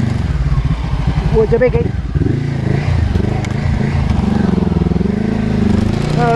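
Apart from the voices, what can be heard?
Honda CB500X motorcycle riding off road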